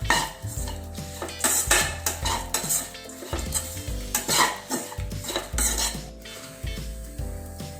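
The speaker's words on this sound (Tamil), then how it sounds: "ஒரு ஸ்பூன் ஜீரகத்தை போட்டுக்கிடலாம். போட்டு நல்லா கிண்டி விட்டுறணும். நல்லா வறுத்துட்டே இருக்கணும், கை விடாமல் வறுக்கணும்." Cumin seeds roasting in a pan are stirred constantly with a metal spoon, giving rapid clinks and scrapes against the pan under a faint sizzle, close up and without talk.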